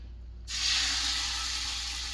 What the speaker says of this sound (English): We're gonna let these sizzle on the bottom here